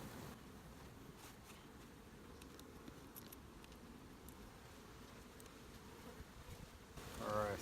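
Honey bees buzzing steadily around an open hive during an inspection, a low continuous hum that holds throughout, with a louder rustle of handling near the end.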